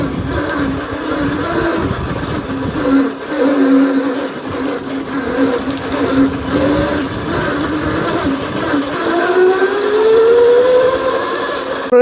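An Ozotech Bheem electric scooter is ridden, producing a steady electric motor whine with wind and road rumble. A rising tone builds toward the end as the scooter speeds up, and the sound stays close and fairly loud.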